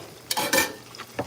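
A utensil stirring in a pan after sausage has been cooked, two or three short scraping sweeps with a faint sizzle, close and brief.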